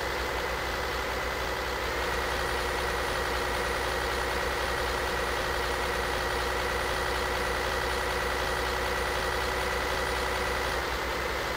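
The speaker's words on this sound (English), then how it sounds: "I gotta say, the engine sound could get very repetitive on me, which seems strange considering you're driving a truck." Kenworth T660 truck engine idling in Euro Truck Simulator 2, a steady, continuous low rumble with a constant hum, unchanging and alone throughout.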